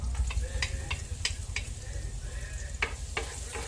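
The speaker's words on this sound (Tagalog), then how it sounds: "Tapos lagay na natin yung ating garlic." Garlic sizzling in butter in a pan, a soft steady frying hiss up close with scattered crackles and a few scraping stirs of a utensil.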